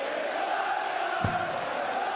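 A huge crowd roars at a Premier League darts match in Dublin, a dense, steady wall of cheering that fills the whole moment, with a brief low thump near the middle.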